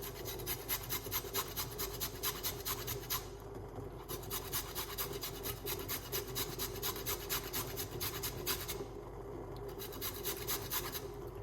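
Ginger being grated for avocado tea, a steady rhythmic rasping of quick repeated strokes against a grater, continuing with brief pauses, close and moderately loud.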